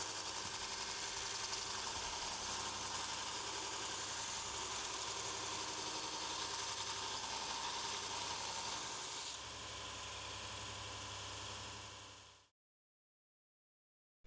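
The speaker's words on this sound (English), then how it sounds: "using the V-block, sharpen the tool until all the flat surface has gone" Woodturning tool sharpened on an abrasive belt sander with the table set to 45 degrees and a V-block, giving a steady loud motor hum and grinding whir that runs continuously and then cuts off near the end.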